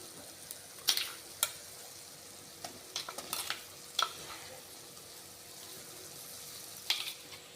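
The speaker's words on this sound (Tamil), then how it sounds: "இப்போ நம்ம அரைச்சி வச்சுருக்கோம்ல மசாலா அந்த மசாலாவையும் இப்போ சேர்த்துக்கலாம்" Ground masala stirred into oil in a pan, a faint steady sizzle with a few scattered scrapes and clinks of the spoon, quiet and close.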